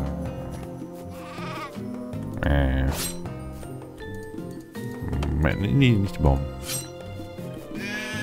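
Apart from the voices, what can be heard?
sheep bleating in video game Craft the World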